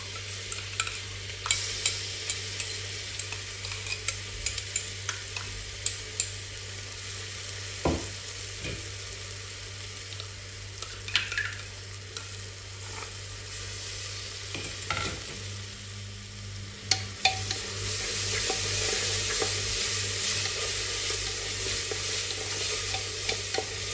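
Onions fry in a pan as ginger, garlic and green chili paste goes in and gets stirred, a steady close sizzle broken by the scrape and clunk of a spoon, no talking.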